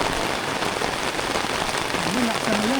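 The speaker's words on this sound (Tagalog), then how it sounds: "Ano, lakas ng ulan." Heavy rain pours steadily at a riverside campsite in Real Quezon, a dense, close hiss of drops on surfaces filling the whole stretch, with a faint voice briefly murmuring near the end.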